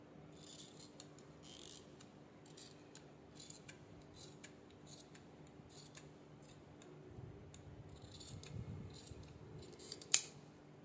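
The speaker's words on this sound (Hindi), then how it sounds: "अब मैं फ्रंट वाले की कटिंग करूँगी" Scissors snip through kurti fabric while a sleeveless kurti front is being cut, giving a quiet run of light, crisp clicks and slices, growing slightly louder near the end with one sharp snap.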